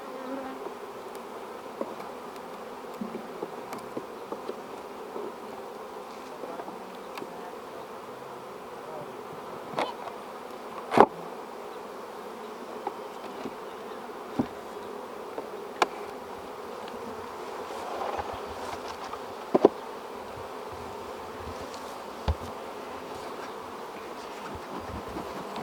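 Honey bees buzz steadily around an open beehive during a smoke-assisted hive inspection, a dense continuous drone close by with occasional sharper individual passes, no talking.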